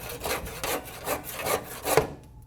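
A handsaw finishing a cut through wood, with steady rhythmic back-and-forth strokes, about five close strokes ending as the cut breaks through and the sound stops.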